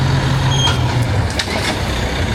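A concrete mud delivery truck on a home build site, its engine a loud continuous diesel drone close by with a faint high tone, heard alone.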